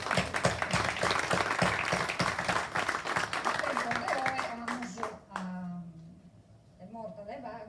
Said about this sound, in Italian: Un applauso di Anabel.